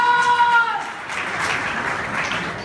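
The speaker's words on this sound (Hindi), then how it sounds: "अजीजुर रहमान सर और अजीज खान सर के लिए जोरदार ताली हूँ।" Audience applause at a live event in India breaks out after a brief sustained tone, a moderately loud wash of clapping that continues steadily.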